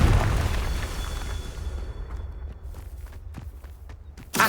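A Confringo fire spell explodes in Hogwarts Legacy: a loud, rumbling burst fades over about two seconds into a low roar, with scattered thuds and a sharp hit at the end.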